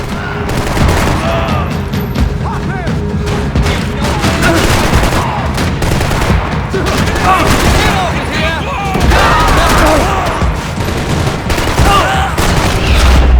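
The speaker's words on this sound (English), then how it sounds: "Gunfire over Hoboken." Dense bursts of rapid gunfire in the video game Max Payne 3 crackle continuously, loud and close, with occasional heavier booms mixed in.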